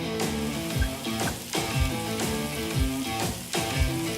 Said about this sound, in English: Why don't you go ahead and drop your onions and peppers in